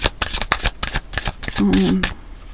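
Tarot cards being shuffled by hand: a rapid run of crisp riffling flicks and soft slaps, close and fairly loud, building into a denser burst of shuffling near the end.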